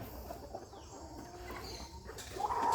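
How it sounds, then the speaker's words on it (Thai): Chickens, Burmese fighting cocks being fed on a farm in the early morning, cluck softly and intermittently in an open outdoor space, with a louder squawk rising at the end over a faint background hum. "นี่ก็ให้อาหารไก่นะครับ"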